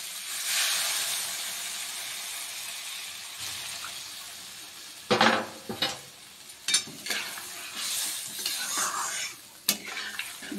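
Spice paste of coriander, cumin and chili powder cooking in a pan after water is added, a steady hiss and sizzle with intermittent scraping stir strokes and clinks of a utensil, no talk.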